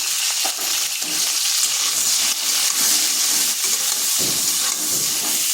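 Halved pointed gourd (potol) pieces seasoned with salt and turmeric fry in hot oil, a continuous close sizzle with scraping stirs from a spatula throughout.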